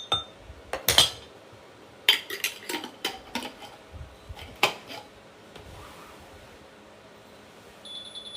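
A metal spoon scoops an ingredient into a cup, giving a cluster of sharp clinks and taps against the rim, then quieter scraping and a few fainter knocks, close by with no talking.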